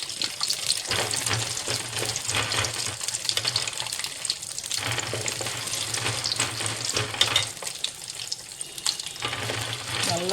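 Peanuts and lentils frying in oil for lemon rice, a continuous crackling sizzle with stirring, steady and close throughout, with no voices.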